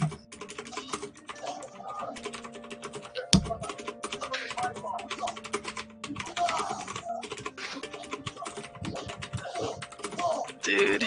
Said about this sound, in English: hitting me with that keyboard ASMR